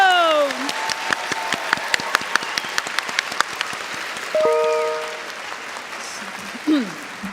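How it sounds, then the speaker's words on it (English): Audience applause at a university entrance ceremony, clapping for a Yosakoi dance crew, a steady crowd clatter rising and then fading, with a host's voice speaking over it. "give a big round of applause to the Yoshakoi dance crew"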